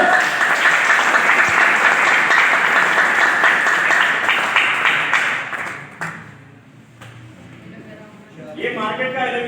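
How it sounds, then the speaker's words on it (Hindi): A small audience claps loudly and steadily for about six seconds, then the applause thins out and fades. A voice begins talking near the end. "इसके लिए जोरदार ताली मारिए।"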